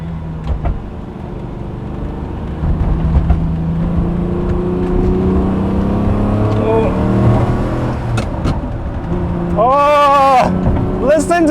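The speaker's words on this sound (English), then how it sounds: "you can't beat a V12 engine sound" A deep V12 engine in a 2003 Lamborghini Murcielago hums and drones steadily, heard from inside the car, swelling briefly near the end, with a voice talking over it.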